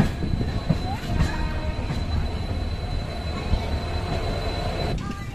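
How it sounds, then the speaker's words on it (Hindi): Train rolling along the tracks in the evening, a steady close rumble of wheels and carriage with faint squeals and clatter, continuous throughout. "ट्रेन धीरे धीरे आगे बढ़ते हुए अपनी डेस्टिनेशन की तरफ अपनी स्पीड में"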